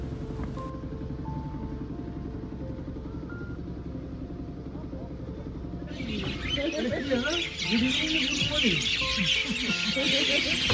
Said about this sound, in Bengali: আকাশ জুড়ে এখন শুধুই পাখিদের কিচিরমিচির শোনা যায়।